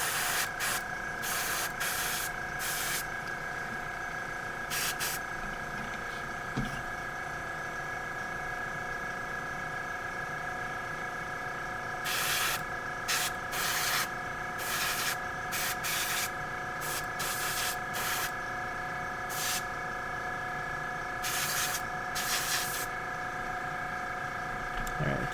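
An airbrush sprays paint onto Warhammer 40k Genestealer miniatures: a continuous steady hiss with intermittent louder bursts as the trigger is pressed, and no talking.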